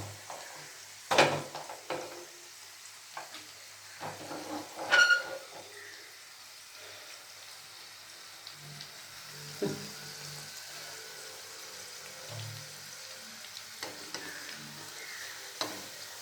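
Chobe ki puri, a sweet, deep-frying in hot oil: a soft, steady sizzle and hiss close by, broken by a few clinks of a slotted ladle against the pan.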